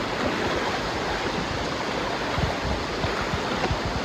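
Steady rushing river water while a vehicle crosses the river, a broad constant wash with occasional low splashes, fairly close.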